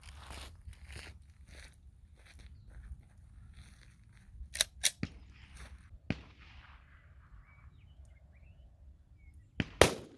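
A .357 SIG handgun fires into ballistics gel from 15 feet, a single sharp, loud report standing out from the quiet, preceded by a few smaller clicks and pops of handling, with another sharp crack near the end.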